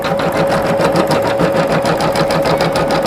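A sewing machine runs at a fast, even rhythm with a steady motor whine as it stitches a rope bowl, loud and close, no talk.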